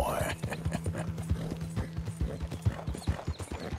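Arthur's horse clip-clops at a steady walk in Red Dead Redemption 2, with regular hoofbeats and faint tack rattle running through, while someone talks over it.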